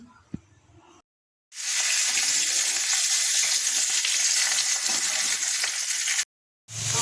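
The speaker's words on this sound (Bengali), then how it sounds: "চলো এই মাছগুলো আগে ভেজে নিই নুন হলুদ দিয়ে।" Fish coated in salt and turmeric sizzles loudly in hot oil, a bright, steady hiss close up that starts after a short quiet pause and cuts off abruptly near the end.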